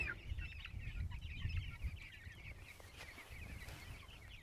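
About 75 chickens in a chicken tractor cluck and chirp steadily in a crowded flock, a busy murmur of many birds with low rustling underneath, no talking.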